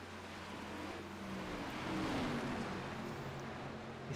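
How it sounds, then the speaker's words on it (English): Race cars on the Legacy Kentucky oval in an Outlaws sim racing game drone steadily at moderate distance, the engine pitch sliding gently as they ease through a corner, fairly faint and continuous. "you can hear how slow these drivers are having to take these corners"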